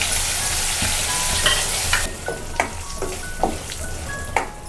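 Mustard seeds, dried red chillies, turmeric and curry leaves fry in hot oil for a raw cucumber chutney tempering. The oil sizzles close and loud and then settles, broken by sharp pops and crackles at irregular intervals.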